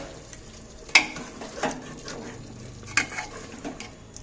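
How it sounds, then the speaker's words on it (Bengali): Egg and jackfruit curry being sautéed in a pan, with soft continuous frying sizzle broken by a few sharp stirring scrapes and clinks of a spatula against the pan. "দেখি একটু কষিয়ে নিই"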